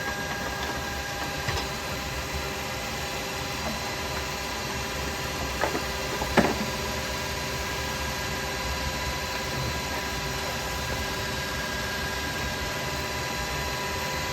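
A wood lathe spins up to about 2,500 RPM while a carbide chisel is used for woodturning. It gives a constant mechanical hum with a faint high whine, steady in level, with a couple of brief knocks near the middle.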